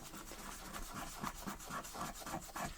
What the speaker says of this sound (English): So I'm going to use a little bit of Scotch-Brite